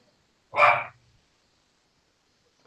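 A dog gives a single sharp bark, close and loud, then silence follows, with a hint of another sound starting at the very end.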